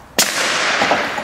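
A bolt action rifle fed from standard AR magazines fires at a metal barrel outdoors, giving one sharp loud crack followed by a long, bright ringing decay as the impact lingers.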